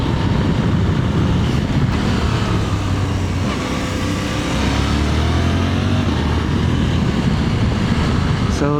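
Riding onboard a Suzuki V-Strom 800 motorcycle, a steady, close engine drone blends with constant wind rush for the whole stretch, with no breaks.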